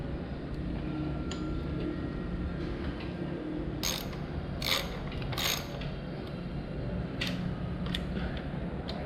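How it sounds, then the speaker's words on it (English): A mini ratchet clicks in short bursts while tightening a brake component on a Royal Enfield Himalayan motorcycle during a brake pad change, crisp close ratcheting over quiet background. "hand tight with a mini ratchet, and then a quarter of a turn"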